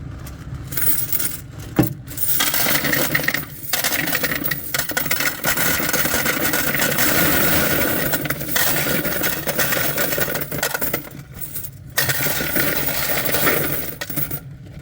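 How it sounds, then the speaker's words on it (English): Quarters poured by hand back into a laundromat coin changer, a sustained metallic clinking and rattling jangle of many coins with brief pauses, fairly close and loud. "These will all go back into the quarter machine."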